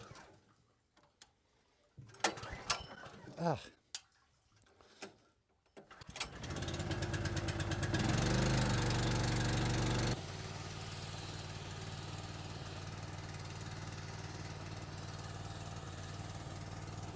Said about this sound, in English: Every once in a while this pump engine can be a little hard to start